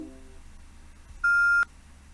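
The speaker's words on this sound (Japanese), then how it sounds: "苦情電話の録音、これが妨害の様子です。" A single loud, sustained electronic beep tone, about half a second long, cuts into a recording of a complaint phone call to NHK, following a faint brief tone at the start.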